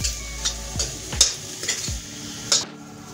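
Potato samosa filling with turmeric is mixed in a hot pan, with several distinct spatula scrapes and knocks against the metal over a close, steady sizzle. No one speaks.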